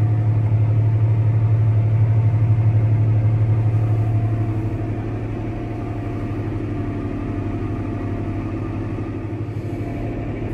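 A dirty farm tractor's engine runs steadily nearby, a low, constant rumbling idle that eases slightly in loudness partway through and continues without talk.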